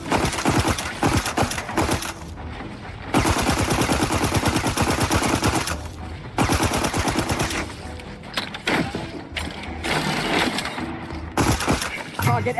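Video game gunfire from The Outer Worlds 2: dense, loud bursts of rapid automatic shots, nearly continuous with brief breaks, mixed with impacts and battle clatter.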